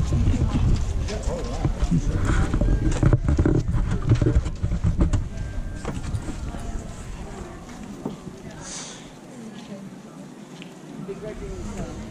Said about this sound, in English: Horses are well trained.